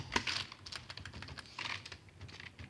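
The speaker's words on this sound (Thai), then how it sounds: "ผมอาจจะพิมพ์มือเดียวนะฮะช้านิดนึง" Keys clatter on a computer keyboard in uneven, somewhat slow bursts of typing, close and clear with no voices.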